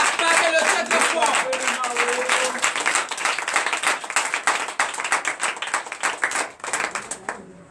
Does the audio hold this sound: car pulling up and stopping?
no